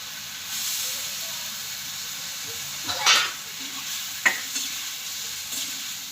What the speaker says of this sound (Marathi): आता आपण त्याच्यात धुतलेल्या कोळंब्या त्या टाकू टाकून घेऊ